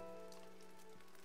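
Soft, steady rain pours in the video game Nameless, a faint hiss under sustained ambient music tones.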